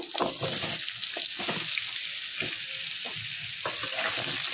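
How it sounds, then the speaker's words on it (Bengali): Potatoes fry in hot oil with panch phoron spices, a steady close sizzle with scraping stirs breaking through, no voices. "আলুটা একটু ভালো করে ভেজে নেব।"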